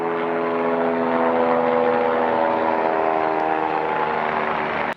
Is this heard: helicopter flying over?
yes